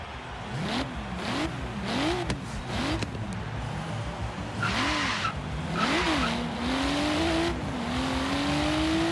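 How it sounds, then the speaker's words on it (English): Nissan Skyline R31 in the video game Forza Horizon 3, its engine revving up and down through repeated gear shifts with rising pitch sweeps, then bursts of tire squeal and a long steady acceleration, loud and close throughout. "So we have the Nissan Skyline R31. So let's take it for a spin"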